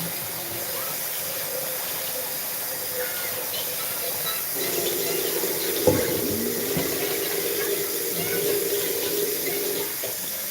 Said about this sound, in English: Add water into my pot so when I put it into the bouillon, it can be hot